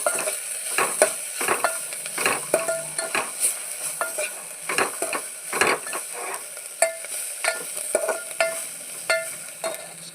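Onions and spices, including turmeric, stirred in a hot pan for endu royyala pulusu, with repeated rhythmic scrapes and clacks of a spoon over a continuous sizzle, close and fairly loud.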